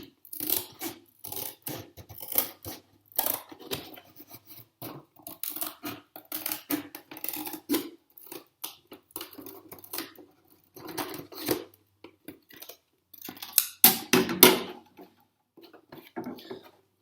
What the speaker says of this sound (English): now I can go ahead and cut from one side to the other,